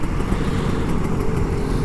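Kawasaki Ninja RR 150 two-stroke sport motorcycle, an older model, revving on a Jakarta commute, a steady loud engine drone with rough low-end rumble close to the rider, no voices over it.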